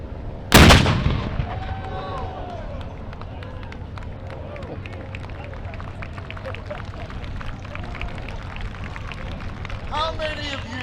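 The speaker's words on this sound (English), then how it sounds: "Armaments group, fire." Tank armament guns fire in a live firing demonstration, a single massive near blast opening the clip and then echoing away, followed by crowd murmur and voices talking over a rumbling background.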